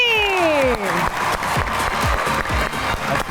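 An audience claps to welcome comedians Barkat and Uzmi onto a comedy show stage, with distinct, fairly rhythmic claps over music with a falling swoosh effect at the start.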